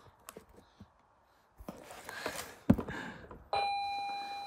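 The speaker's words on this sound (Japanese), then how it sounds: "なんかピンポン鳴った。" A few faint knocks and shuffles, then a doorbell rings out clearly with a sustained electronic chime, heard indoors.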